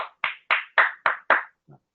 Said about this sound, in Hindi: तो मैं चाहूंगा एक बार उनके लिए जोरदार तालियां हो जाए।